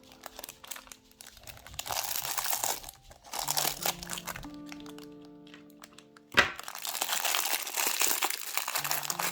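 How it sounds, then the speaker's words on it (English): Scissors cut open a subscription unboxing package, with crinkling plastic and paper, snipping cracks and a sharp thunk partway through, close and fairly loud with no talking. "Let me just cut it open."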